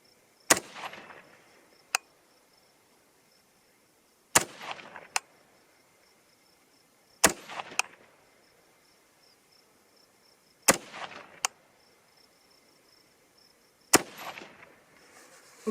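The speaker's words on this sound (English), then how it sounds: "Okay, 5 shots. Here we go." Five sharp rifle shots fired at a target outdoors, evenly spaced about three seconds apart, each a loud crack with a short echoing tail, over a faint steady hum of insects and no speech.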